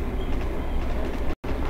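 A train passes in the World War II shooter game Heroes & Generals as a steady, loud, broadband rumble, broken by a brief dropout near the end.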